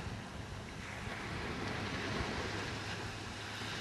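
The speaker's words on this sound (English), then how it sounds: "Here we are, Long Beach Island in New Jersey. One of the many beaches in the world." Ocean surf at Long Beach Island beach in New Jersey, a steady broad wash of waves mixed with wind buffeting the microphone, continuous and fairly loud with no voices.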